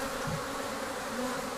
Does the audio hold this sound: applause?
no